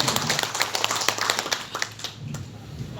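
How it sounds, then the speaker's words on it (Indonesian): Applause from an audience at an event on inclusive education, many hands clapping in a dense, lively burst that tapers off toward the end, with no talking over it. "Aplaus tepuk tangan buat kita semua."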